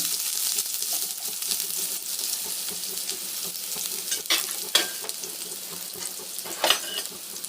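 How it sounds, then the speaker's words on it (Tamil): Mustard seeds, fennel and onions sauté in a pan, a steady near sizzle under repeated stirring and scraping, with a few sharper clinks from the utensil and no voices. "கடுகு போட்டேன் சோம்பு போட்டேன் வெங்காயம் ஆட் பண்ணிட்டேன்"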